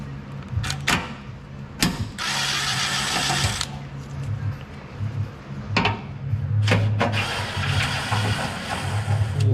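A power tool whirs in short bursts as it loosens stiff bolts on the skid plate of a 2015 Nissan Frontier Pro 4x, each burst sharp and close, separated by clanks and brief pauses.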